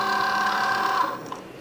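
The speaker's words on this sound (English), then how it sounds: "So now the machine is going to pull it in and make sure that it has enough to cut our design." A Cricut Joy cutting machine feeds vinyl in with a steady, fairly loud mechanical whir and tonal motor hum for just over a second, then quietens into softer clicks.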